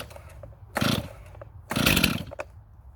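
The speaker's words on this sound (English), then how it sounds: "That's how you start a chainsaw." A STIHL MS 251 Wood Boss chainsaw resting on the ground gives two loud, short bursts as its engine turns over once under the pull-start, with quiet gaps between them and no talk.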